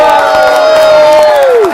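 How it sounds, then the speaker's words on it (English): A crowd bursts into loud, sustained cheering for a magician's egg bag trick, with a steady roar of voices and a bright tone that slides downward near the end. "everyone will burst into spontaneous applause"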